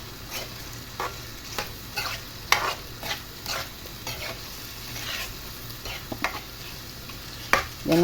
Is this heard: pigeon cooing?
no